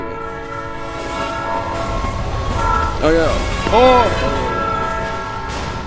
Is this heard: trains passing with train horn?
yes